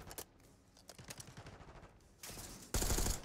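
Gunshots in the video game Call of Duty: Black Ops 6, irregular bursts of scattered shots that build into a heavier, sustained volley at the end.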